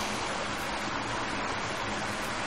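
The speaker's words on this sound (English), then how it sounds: "Sorry about the water noises." Steady, loud rushing water from the video game ECO fills the whole stretch without a break, a broad continuous wash like a nearby stream or surf, with no voices.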